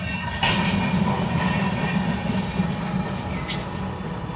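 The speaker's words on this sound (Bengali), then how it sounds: "আমি জানি ট্রেন এসছে" The Kamrup Express passes near the roadside at Farakka, heard from a stopped car: a loud, continuous rumble with wheel clatter and a faint metallic squeal, steady throughout.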